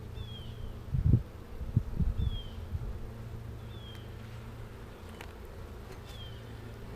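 Honeybees buzzing faintly in an opened hive during a brood box reversal, a low continuous drone under a few soft rustling bumps and thin bird chirps repeating in the background.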